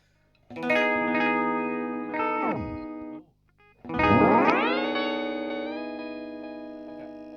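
Electric guitar chords ring out through a Chase Bliss Mood pedal's shimmering, warbling effect, two strummed phrases with pitch swoops and a long sustained tail.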